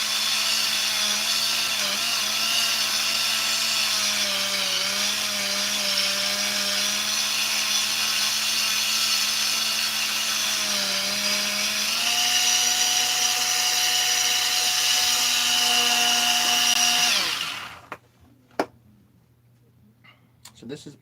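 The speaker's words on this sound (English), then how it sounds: "Again, just a steel wire brush." A power tool spins a steel wire brush against a Husqvarna 350 chainsaw part, giving a loud, steady whine for about seventeen seconds before it cuts off, followed by a few faint clicks and handling sounds.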